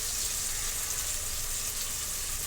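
Coriander hits hot oil for masale bhat, giving a dense, even sizzle that stays loud and close for the whole moment.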